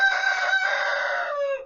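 A backyard rooster lets out a single loud, drawn-out crow close by, trailing off at the end, with no other sounds around it.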